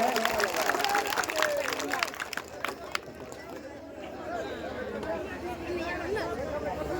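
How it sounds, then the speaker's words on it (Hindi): A crowd claps in a dense burst of applause mixed with chatter and voices at a welcome ceremony for an MP, tapering into murmuring crowd noise. "जोरदार तालियों से स्वागत किया जाए।"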